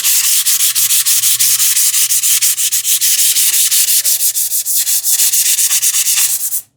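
Wooden TV unit furniture hand sanded with sandpaper, producing loud, close, rhythmic rasping strokes in quick steady succession that stop abruptly at the end, with no talking.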